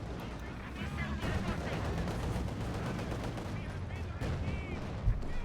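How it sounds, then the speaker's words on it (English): MG42 machine gun fire in a Company of Heroes 2 battle, a dense, continuous rattle of gunfire and artillery with no pause, steady and loud throughout, with commentator speech mixed in. "MG42 firing"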